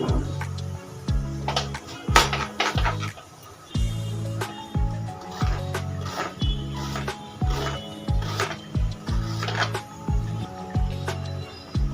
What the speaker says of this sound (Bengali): আলুটা আমাদের সেদ্ধ হতে থাক, ততক্ষণে পেঁয়াজটা কেটে নিই